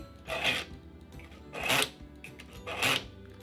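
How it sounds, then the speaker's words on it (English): A Bavarian Edge countertop sharpener drawing a serrated knife through its slot, three separate harsh rasping strokes about a second apart, close and fairly loud, with quiet gaps between them. "I really didn't think you could sharpen a serrated knife"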